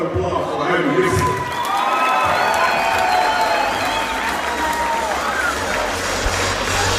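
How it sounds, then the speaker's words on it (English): A crowd at a live combat league fight event applauds and cheers for a fighter, a steady wash of clapping and shouting mixed with voices that holds for the full seven seconds. "One more round of applause for having Nixon."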